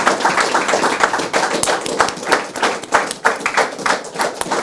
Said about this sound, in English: give a resounding round of applause to the leadership of the St. Kitts-Nevis Labour Party